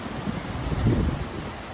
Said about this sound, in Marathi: हवा बघा पाणी बघा सगळं